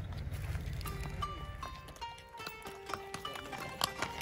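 Hooves of a horse pulling a carriage clip-clop in a steady trotting rhythm over a low rumble of wheels. Clear, moderately close knocks with faint background sound and no talking.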